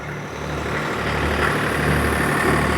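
A Swaraj 855 tractor engine idles with a low, steady rumble, running continuously nearby with no voices.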